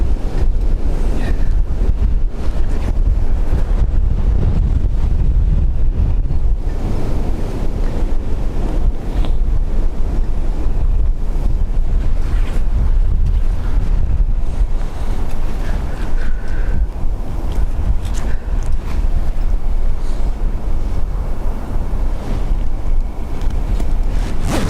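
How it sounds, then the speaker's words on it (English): Strong wind roars constantly at Dublin Airport, buffeting the microphone with a heavy, rumbling, gusty noise that never lets up, and no one speaks. "My God, that wind."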